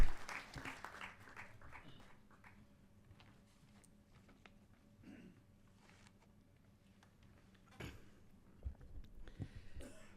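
Audience applause greets Dr Padmesh Gupta at a formal gathering, a burst of clapping at the start that thins into scattered claps, with a second swell near the end.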